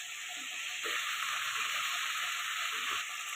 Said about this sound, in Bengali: এটাও এবার একটু ভাজা ভাজা করে নেবো চিকেনের সাথে